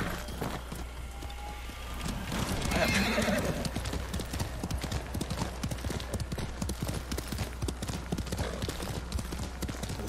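A horse in the video game Ghost of Tsushima gallops with quick rhythmic hoofbeats and lets out a loud neigh early on, the drumming hooves continuing steadily.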